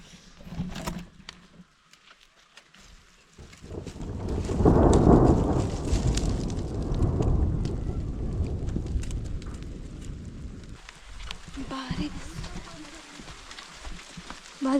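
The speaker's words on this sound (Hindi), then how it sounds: "जोर शोर वाली बारिश आ गई है हमारे यहाँ।" Heavy monsoon rain pounding down in a hillside village with rumbling thunder rolling through, loud and continuous, with a voice speaking briefly over the downpour.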